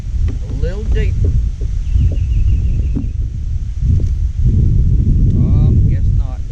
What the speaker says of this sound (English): The wind's going to blow 900 miles an hour. It is so hard to fish in the wind sometimes.